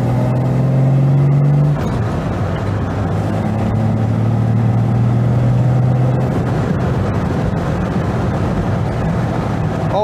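A Jaguar E-Type sports car engine roars from close by, its pitch rising in a throaty induction growl, dropping at a gear change, then climbing again, loud and continuous.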